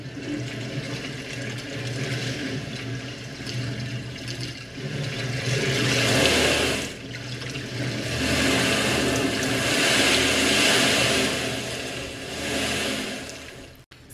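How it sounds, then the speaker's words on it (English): Ocean-wave sound design for dance movement sonification rises and falls as a continuous rushing wash of water, swelling and ebbing in loudness without any talk. "one of the sound designs with ocean sounds reflects the experiential quality through mapping with a strong sense of gravity"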